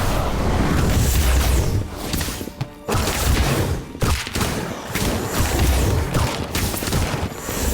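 The Incendio fire spell in Harry Potter Magic Awakened erupts as a dense, loud burst of roaring crackle and booming thuds, sustained with short breaks over several seconds.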